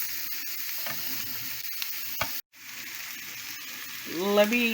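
Corn, peas, carrot and green beans stir-frying in a pan for fried rice, with a soft sizzle and scattered clicks of a utensil scraping and stirring, a brief silent gap, and a short tonal sound near the end.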